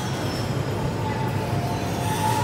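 A train rolls past with a steady, loud rumble of wheels and a faint thin squeal held throughout, close and continuous, with no voices.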